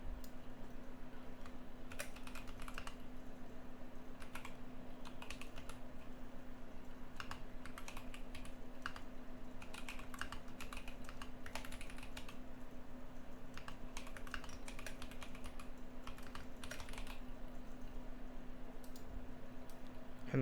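Text is typed on a computer keyboard for about twenty seconds in a continuous close-up run of soft key clicks, with a low steady hum underneath.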